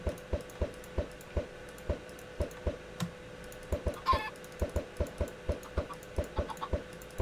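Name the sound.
chickens spawning from eggs in Minecraft video game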